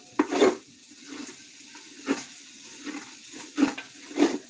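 A spoon stirs and scrapes venison pot roast with flour and wine in a pot, giving a few separate scraping strokes at uneven intervals over a quiet, low sizzle.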